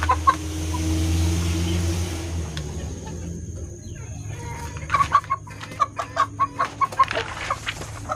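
A crossbred Bangkok village chicken, a rooster bred with a Bangkok hen, gives short rhythmic clucks, loudest after the fifth second, following a low engine-like hum that fades early on.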